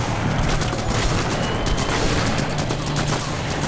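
Automatic rifle fire from The Punisher video game during a prison-island level, a dense and continuous rattle of shots with booming impacts that stays loud throughout.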